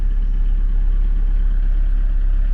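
A Citroen Acapulco camper van's 2.5 litre diesel engine idles close by, giving a steady, even low rumble with a faint clatter and no voices.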